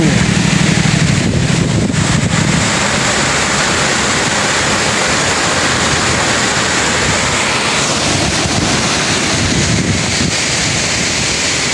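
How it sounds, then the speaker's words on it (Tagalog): Tamaraw Falls in Puerto Galera on a rainy day, a steady loud broadband rush of falling water that fills the whole stretch without pause, with a low rumble near the start. "nakita na nga natin yung kaganapan dito sa Tamaraw Falls"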